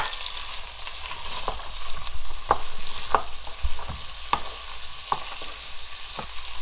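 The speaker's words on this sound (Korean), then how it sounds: "마늘쫑이 어느 정도 익을 때까지는 볶아줘." Mussels and garlic scapes stir-fry in a pan with a steady close sizzle, broken by irregular scrapes and clacks of a utensil stirring against the pan.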